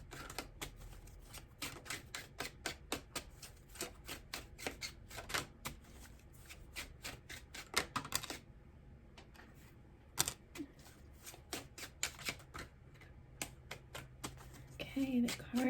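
Tarot cards are shuffled in rapid, crisp riffling flicks, near and moderately quiet, with a short pause partway through.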